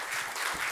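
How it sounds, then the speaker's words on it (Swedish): Warm audience applause for a panel of five at a Swedish conference on the labour-market partner model, a steady broadband clapping wash with no speech. "Ge dem en varm applåd."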